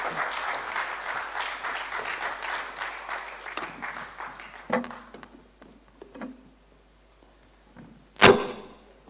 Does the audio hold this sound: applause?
yes